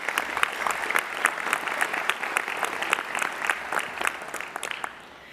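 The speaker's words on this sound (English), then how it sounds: "And I would like to give a round of applause." Graduation ceremony audience applauds steadily, a dense wash of many hands clapping from a large crowd, moderately distant, fading out at the end.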